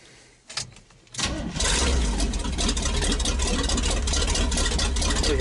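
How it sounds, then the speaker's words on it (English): An engine on a square-body 4x4 truck cranks over briefly, catches, then settles into a loud, steady rumbling idle close by, with no talking. "We'll start it up"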